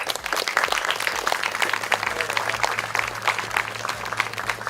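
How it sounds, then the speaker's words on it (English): Audience applause at a groundbreaking ceremony for a college student center, a steady wash of clapping lasting several seconds at moderate loudness, with no talking over it. "let's give them a round of applause"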